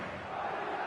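A packed stadium crowd roars at kick-off in the eFootball video game on PS5, a broad, steady wall of cheering that swells slightly toward the end.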